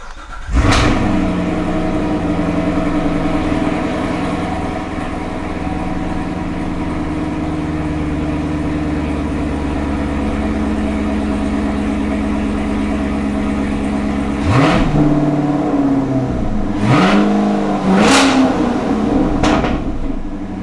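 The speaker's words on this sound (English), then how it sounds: "start the car up and make sure we don't have any check engine lights" A C7 Corvette engine with an aFe cold air intake starts with a burst and idles steadily for a long stretch, then several quick revs rise and fall near the end, loud and close.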